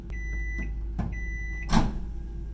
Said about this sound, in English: cook it in the microwave for, I think, 3 minutes